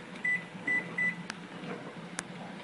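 Kitchen timer being set while pickles boil for canning gives three short electronic beeps followed by a couple of faint clicks, close by, over steady stovetop hiss.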